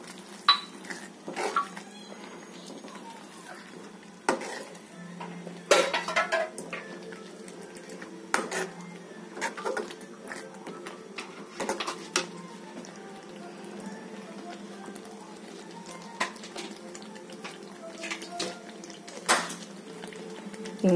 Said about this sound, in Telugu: గ్రేట్ చేసుకున్నటువంటి పన్నీర్ వేసుకోవాలండి. వేసుకొని ఒకసారి బాగా కలపెట్టుకోవాలి.